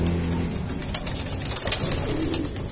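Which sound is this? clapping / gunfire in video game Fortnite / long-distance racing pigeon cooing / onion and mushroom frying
long-distance racing pigeon cooing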